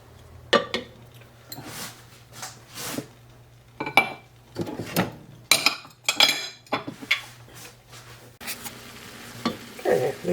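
Celery and celery root soften in a pan over gentle warmth, mostly heard as intermittent bursts of stirring, scraping and utensil clinks against the pan over a faint, quiet sizzle.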